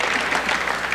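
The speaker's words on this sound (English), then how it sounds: "Yeah, please applaud that." A comedy club audience applauds in a steady, dense wash of clapping that fills the short moment at an even level, with no speech over it.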